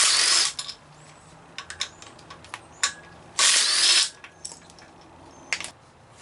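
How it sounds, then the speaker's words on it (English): A ratchet tool works on the timing belt tensioner pulley of a Chrysler 3.5 engine during a teardown, giving quick bursts of clicking and two longer loud ratcheting runs between brief pauses, close up with no talk. "I'm just going to loosen this tensioner pulley"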